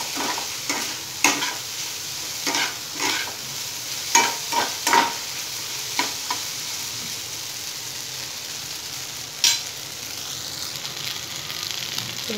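Kurdai being stirred with onion in a frying pan for a traditional Maharashtrian kurdai bhaji: repeated scraping spatula strokes in irregular bursts over a steady close sizzle, with the stirring easing off toward the end.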